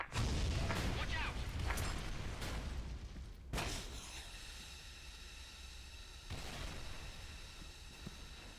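Frag grenade explosion in Counter-Strike, a sharp loud boom that stands out from a busy mix of gunfire and game noise, followed by a lingering rumble, with commentators talking over it.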